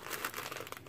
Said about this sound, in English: This is Hallmark shredded paper.